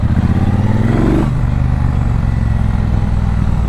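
A loud 2022 Triumph Bonneville Bobber motorcycle engine revs high, then drops sharply as the throttle closes, settling into a deep, burbling engine-braking rumble, very close.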